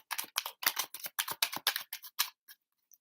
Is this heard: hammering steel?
no